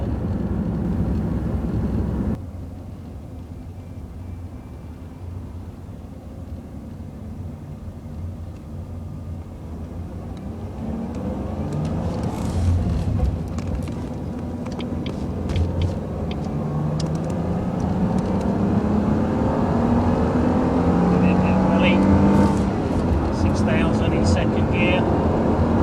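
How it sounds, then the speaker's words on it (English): A Jaguar X-Type cruises at 30 mph in 5th gear along a main road, its low steady engine drone and road rumble continuous throughout, with someone talking over it. "So this is 30 miles an hour in 5th gear, just crawling along the main road."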